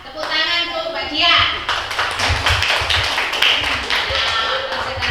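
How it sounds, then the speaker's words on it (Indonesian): A group applauds a student after her presentation in a classroom session, with ragged, fairly close claps mixed with voices and chatter. "Tepuk tangan untuk Mbak Dia"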